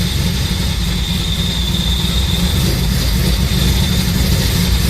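A 3800 V6 fitted with a Paxton Novi supercharger, now running smoothly after a cracked number 5 spark plug was replaced, produces a loud, steady engine drone with a high supercharger whine held constant throughout.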